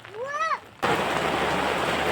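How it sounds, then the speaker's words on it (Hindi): Heavy rain pours down outside a zoo in Almora, a sudden dense hiss of downpour that starts abruptly and continues steadily, preceded by a short rising whistle-like tone. "और वापस निकलते ही तेज़ की झमाझम बारिश शुरू हो जाती है।"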